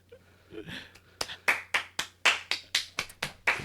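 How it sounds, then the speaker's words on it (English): A small handful of people clap in sharp, separate claps at a quick, uneven rhythm, near and fairly faint, with a few softer taps leading in. "How do we follow that? Incredible. With applause."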